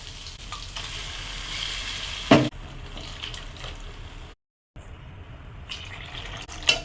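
Vegetable gravy being stirred in a pan, with a steady sizzle of frying food throughout, a sharper scrape of the spoon near the middle, and a brief break before the close, with no talking.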